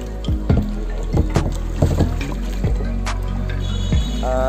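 Kayak paddled on water at a kayaking point in Bhola, Bangladesh, with rhythmic paddle strokes and splashes repeating about every half second, close up over a steady rumble of wind and water.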